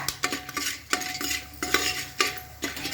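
Raw corn kernels are stirred in a pan with a utensil to make homemade popcorn, producing rhythmic scraping and rattling strokes about every half second, close and clear with no talking.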